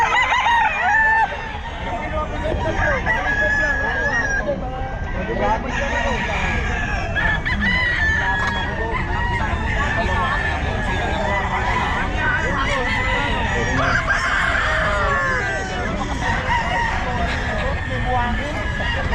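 Chickens and roosters at the Bocaue pet market, with repeated crowing and clucking over a dense, continuous crowd din and people talking nearby.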